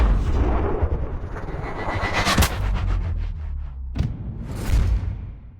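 In the Sniper Ghost Warrior Contracts video game, a sniper rifle shot booms and a bullet impact follows amid a rushing slow-motion whoosh, with sharp loud cracks punctuating a dense, rumbling backdrop.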